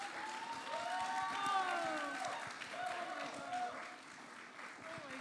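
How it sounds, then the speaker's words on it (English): Applause from a dance-week audience at a Bollywood-themed show, steady and fairly faint, with voices and cheering mixed in throughout. "Another round of applause."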